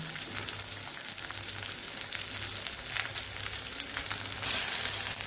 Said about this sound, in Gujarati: ઓછા તેલની અંદર આપણે ભીંડાને એકદમ સરસ ફ્રાય કરી લેવાના છે